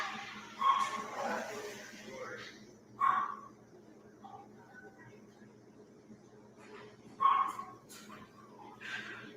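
A dog kept in a cage lets out a few sharp barks and yips at intervals, with short gaps of quiet between them and faint background chatter underneath.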